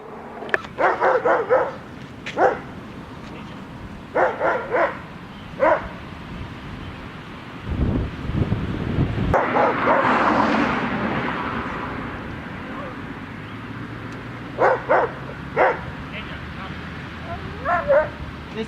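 Dogs bark at each other along a fence line in short, sharp bursts spread through the clip, with yips and whimpers between them, a stretch of rustling noise in the middle and someone talking over parts of it.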